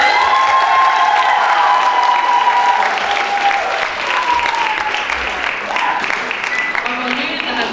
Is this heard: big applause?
yes